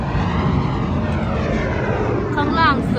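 A fixed-wing airplane roars loudly overhead with a broad, steady engine drone that slowly shifts in pitch, heard outdoors beside a Toyota Hilux Revo pickup; a person speaks partway through.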